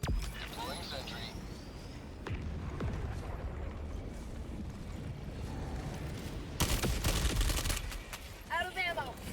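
A deployed sentry gun fires in a video game: continuous rapid gunfire and crackling bursts that stay dense throughout, with a louder burst near the end, mixed with game voices and effects.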